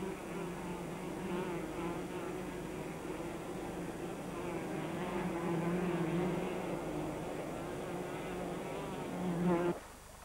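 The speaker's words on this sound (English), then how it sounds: "Inside, the bees are already busy nest building." Bees on Hormuz busily building a nest inside a thick-walled cave give off a continuous close drone, steady and full with a slight swell near the end, and no talk over it.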